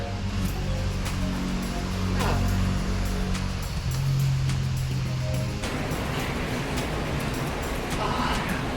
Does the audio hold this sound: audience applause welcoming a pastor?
no